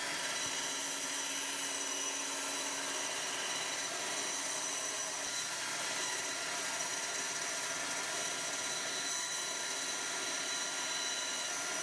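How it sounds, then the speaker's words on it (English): A bandsaw rough-cutting a guitar pick guard, giving a continuous high, hissing whine of the blade with a steady motor drone, even in level for the whole stretch. "Dropped onto the bandsaw and kind of rough shaped it."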